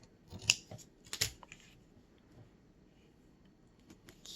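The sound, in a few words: scissors cutting paper to match an edge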